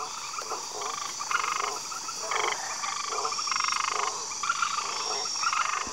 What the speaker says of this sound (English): Pouched tree frogs love to bask in the sun